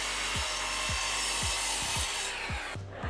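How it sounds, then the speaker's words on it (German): Wooden cutting boards are sawn with a hand saw in steady back-and-forth strokes, about six rhythmic rasping pulls, loud and close, under a continuous broadband hiss. "Jetzt können wir unsere Bretter ja mal zurechtschneiden."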